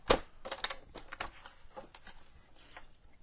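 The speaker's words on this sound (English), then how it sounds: "we're going to bring in my trimmer and score, trimming and scoring" A paper trimmer works on cardstock for a hinge card, a quick run of small clicks and scraping taps, sharpest at the start and then fading into lighter, irregular scratches close by.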